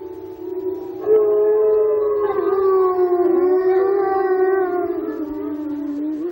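Several long, wavering wolf howls overlap in a sustained chorus, loud and close, with no talking.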